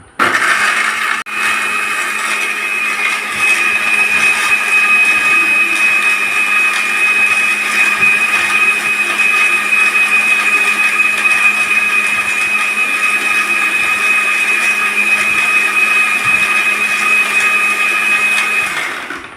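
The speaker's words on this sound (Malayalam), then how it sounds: "ഇനി മിക്സിയിലേക്കോട്ട് എല്ലാം ഇട്ടു. ഇനി 3 സെക്കൻഡോളം അടിച്ചെടുക്കണം." A kitchen mixer grinder blends a Kit Kat milkshake, giving a steady, loud, high-pitched motor whir that runs unbroken for about eighteen seconds before cutting off.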